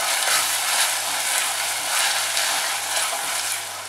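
Onions and ginger garlic paste fry in a pan for a Chettinad mushroom pepper gravy, a steady, close, loud sizzle with occasional stirring swells, no voices.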